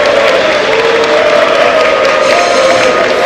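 A large crowd in the Brazilian National Congress boos loudly and continuously, a dense close wall of voices with a sustained drone running through it.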